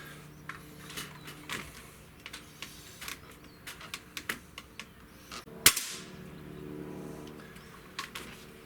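Shots from an Umarex Synergis .177 multi-shot gas-piston air rifle: sharp snapping reports against a quiet background, with one especially loud crack standing out among scattered fainter clicks and taps.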